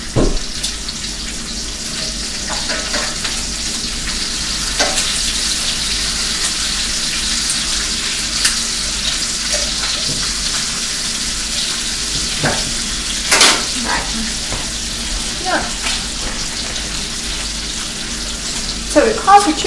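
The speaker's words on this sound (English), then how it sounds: "let's mind our bacon over here" Bacon frying in a pan, a close, fairly loud sizzle and spatter running throughout with scattered pops and clinks of handling and a few sharper bursts, no voices.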